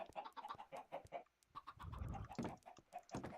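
Chickens in Minecraft cluck in quick repeated bursts, several birds overlapping in a steady, busy patter that runs throughout with no voices.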